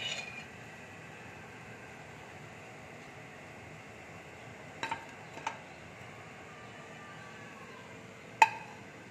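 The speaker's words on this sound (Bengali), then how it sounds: "এবার আমি প্লেটের মধ্যে তুলে দিচ্ছি।" Freshly fried snacks lifted from the pan onto a plate in a home kitchen: a few sharp, isolated clinks of utensil against plate over a low, steady background hum, with long quiet gaps between them.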